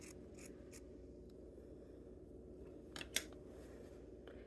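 Scissors snip straight across material for a handmade Christmas gnome, a few faint, crisp cuts over a quiet room hum, with one sharper click near the end.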